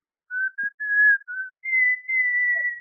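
A man whistles into a telephone, imitating a canary: a series of short, clear, high-pitched whistled notes followed by two longer sustained tones, close and fairly loud with no talk.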